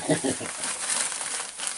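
A plastic bag holding salt and flour crinkles close up as freshly caught and cut perch are tossed in it for frying, a steady rustle with a voice faintly underneath.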